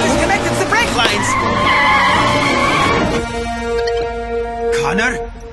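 The Mach 6 race car, running without brakes, skids to a stop with a loud, sustained tire screech over engine noise, while voices shout over the din.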